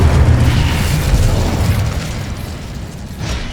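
A fire spell blast in Hogwarts Legacy erupts as a loud, rumbling boom with a heavy low-end roar that trails off into a sustained crackling burn, with no voices over it.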